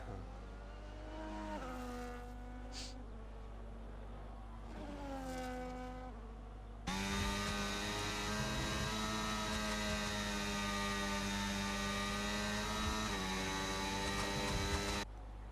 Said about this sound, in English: a little listen to the engine sound of the Honda